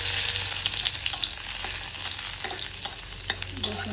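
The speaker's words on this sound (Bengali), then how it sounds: "ফার্স্টে দিয়ে দেবো রসুন কুচি।" Chopped garlic frying in a pan, heard as a steady, close, bright sizzle with light scraping stir sounds throughout and no talk.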